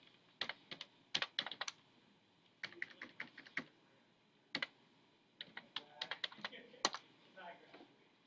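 Bursts of computer keyboard typing while entering a function into the Desmos graphing calculator, with irregular clusters of crisp key clicks separated by short pauses, close and moderately quiet.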